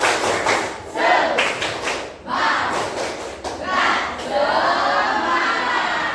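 Classroom students on their feet perform the 'tepuk semangat' clapping chant, bursts of rhythmic group claps and thumps with chanting voices, loud and close, in repeated patterned bursts.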